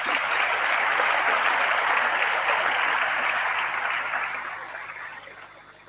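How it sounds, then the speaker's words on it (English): Sustained applause from a large audience at a university graduation ceremony, steady and dense clapping without voices that fades gradually toward the end. "A round of applause to them."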